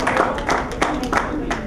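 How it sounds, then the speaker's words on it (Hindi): Audience clapping to welcome a chief guest, Mr. Krishna Prakash, onto the stage at an event, a steady burst of many hands with a few louder claps, fairly close. "उनका जोरदार तालियों से स्वागत करें"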